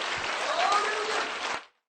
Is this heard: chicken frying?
no